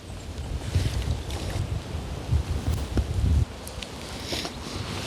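Heavy, gusty wind buffets the microphone outdoors beside a river, with rumbling low-end bursts that rise and fall over a constant airy rush.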